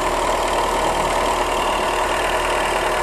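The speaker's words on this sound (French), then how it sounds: "ici nous sommes sur un moteur 1 litre" A Seat Ibiza's 1.4-litre 16-valve engine idles steadily and close by, a continuous even hum with a faint regular tick running unchanged throughout, with no voices.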